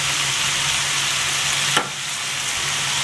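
Dheki shaak with poppy seeds, salt and turmeric fries in a pan with a steady moderate sizzle, one quick scrape of stirring cutting through partway.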